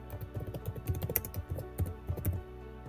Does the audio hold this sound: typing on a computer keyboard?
yes